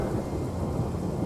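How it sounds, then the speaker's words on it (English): Steady rain hiss with a low rolling thunder rumble fills a short stretch of a video game battle map, continuous and fairly loud with no voices over it. "Oh no, it's raining."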